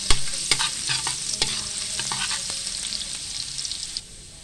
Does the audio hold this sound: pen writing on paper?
no